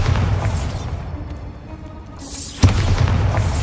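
A Bombarda explosion spell in Hogwarts Legacy opens with a booming roar that dies to a quiet rumble, then a sharp, loud blast bursts out and leaves a rumbling, debris-filled tail.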